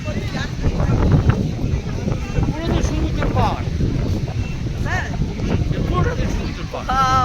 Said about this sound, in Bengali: আমরা এখন এসেছি দীঘার বিচে। হাওয়া দেখো, দারুণ হাওয়া।